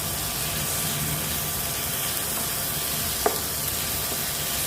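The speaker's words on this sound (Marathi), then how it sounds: "आता मी हा टोमॅटो टाकते" Chopped tomato fries in a pan for sukat, giving a steady, even sizzle close up with one faint clink partway through.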